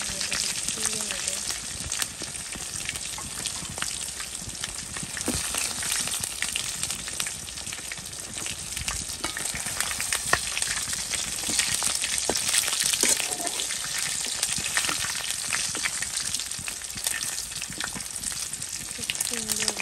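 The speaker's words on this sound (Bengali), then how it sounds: "খুব সুন্দর ভাজা হচ্ছে।" Food frying in hot oil gives a loud, steady crackling sizzle throughout, with occasional stirring scrapes and a voice speaking now and then.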